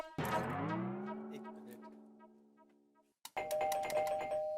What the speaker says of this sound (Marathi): अरे भाई, बेल तो चालू है ना?